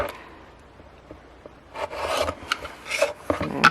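A rotary cutter trims quilt fabric for a half-square triangle block, giving a faint run of short rasping, scraping strokes close up in a quiet room.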